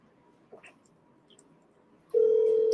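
A telephone being redialed: after a quiet stretch with faint clicks, a steady loud electronic ringback or dial tone begins and holds on.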